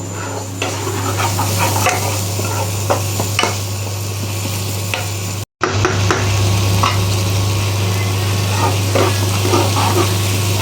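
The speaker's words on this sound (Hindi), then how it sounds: "ये देखिए मसाला हमारा अच्छे से फ्राई हो गया है और प्याज टमाटर भी पूरा अच्छे से गल गया है।" Onion and tomato masala for an egg keema frying and sizzling in a pan while being stirred, a steady loud sizzle with scraping stirs throughout and a brief cut in the middle.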